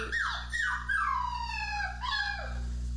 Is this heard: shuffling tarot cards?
no